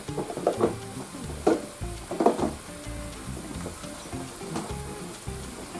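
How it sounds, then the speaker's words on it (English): Butter goes into a shrimp pasta sauce as it sizzles in the pan, a soft bubbling hiss broken by a few scraping clanks of a utensil against the pan, with no talk. "so I'm going to add some more butter"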